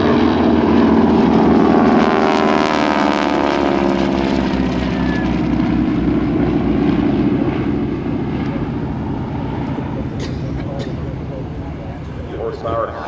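T-6 Texan propeller airplanes with Pratt & Whitney engines make a flat, close trail pass at the 2007 Abbotsford International Airshow. A loud, steady engine drone slowly eases off while an announcer talks over it.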